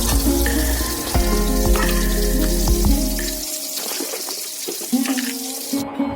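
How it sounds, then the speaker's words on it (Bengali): Soybean chunks frying with salt and turmeric in a home kitchen, a loud steady sizzle with clattering stirs and scrapes that drops away halfway through, leaving quieter scattered clinks and taps. "এবার চলো সয়াবিনটা ভাজা করে নিই"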